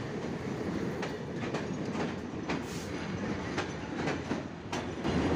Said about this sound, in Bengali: আমাদের এই যে ট্রেন অলরেডি ছেড়ে দিয়েছে যশোরের উদ্দেশ্যে